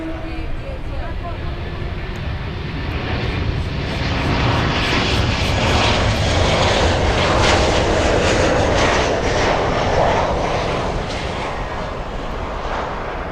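An American Airlines airliner flies in at Miami International Airport, its engines roaring loud and steady as it passes close by, with the broadband rumble swelling in the middle of the pass and holding to the end.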